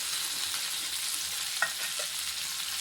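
Tomatoes soften in hot oil in a pan for a garlic tamarind curry, giving a steady, fairly quiet sizzle broken by a couple of brief scraping stirs, with no voices.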